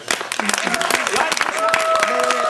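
Applause from a Purim 2015 celebration audience, a crowd clapping loudly and close, with voices talking and calling out over the clapping.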